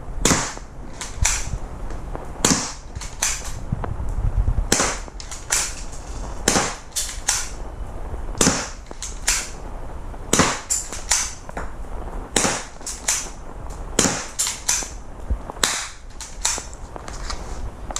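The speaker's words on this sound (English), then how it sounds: "we're gonna load up the gun and test fire on that target" A BB pistol is test fired at a target, with a long series of sharp snapping shots in uneven rapid succession, close and fairly loud, with no talking.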